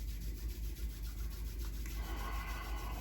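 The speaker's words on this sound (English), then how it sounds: "Rub your hands together, creating a warmth, friction, energy, and warmth in your hands" Hands rubbing together briskly during a yoga flow, a close, rhythmic dry swishing friction repeated rapidly for a few seconds with no talk.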